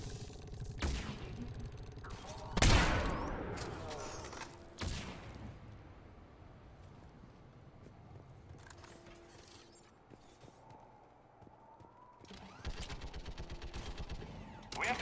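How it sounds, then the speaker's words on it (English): Gunfire from the video game Mass Effect: a few loud, sharp bursts early on give way to quieter scattered shots and mechanical clatter, with another flurry near the end. "Still hear gunfire."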